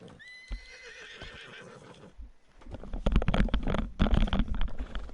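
A horse in the video game Red Dead Online whinnies loudly with a high, wavering call, followed by heavy hooves and rustling scrapes building up close by.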